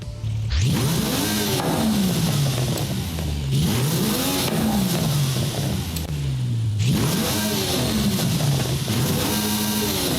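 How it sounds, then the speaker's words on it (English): Mercedes-AMG One hypercar in Forza Horizon 5, upgraded, revving hard through repeated climbs and gear shifts, its high-pitched engine whine rising and dropping in three surges with turbo noise underneath, loud and continuous. "Now listen to the turbos."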